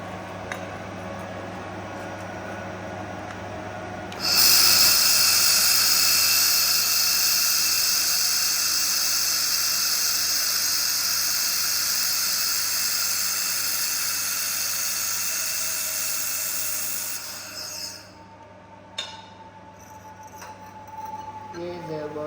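A refrigerant-cooled laser welding machine welds metal, giving a loud, steady high-pitched hiss that holds for about thirteen seconds before cutting off, with quieter background noise on either side.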